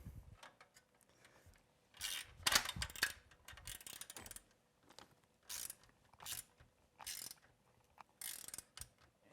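A socket ratchet tightens a bolt on a vehicle chassis, giving bursts of quick, close metallic clicking in irregular groups with brief pauses between strokes; fairly quiet, with no speech.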